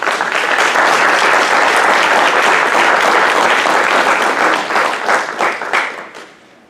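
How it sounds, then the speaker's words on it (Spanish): An audience at a book presentation applauds to welcome a speaker, a research director. The clapping is loud, dense and steady for about five seconds, then thins and fades away at the end. "recibámoslo con un aplauso"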